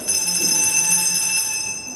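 Bell ringing to announce a client's arrival at a sanitarium office: a sustained, bright, steady metallic ringing with pure high tones, loud and continuous for the full two seconds, with no voices.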